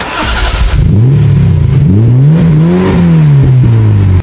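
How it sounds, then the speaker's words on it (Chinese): A Ferrari F80 engine sound effect in an animated drama: a loud start followed by sustained revving that rises and falls in pitch, heard close and alone. "直接拿出车钥匙对着法拉利按了一下启动"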